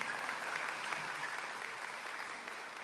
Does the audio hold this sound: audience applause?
yes